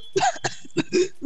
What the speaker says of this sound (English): Dude's coughing.